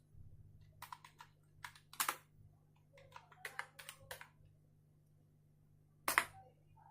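Someone types on a computer keyboard while configuring network switch VLANs. Short bursts of key clicks come with pauses between them, faint but close, over a steady low electrical hum.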